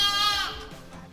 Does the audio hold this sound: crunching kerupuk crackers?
no